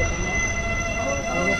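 An express train, the Sealdah–Jangipur Express, rolls past a local train halted at Lalbag Court Road station, giving a steady, loud rumble of wheels and carriages with faint high tonal squeal lines running throughout.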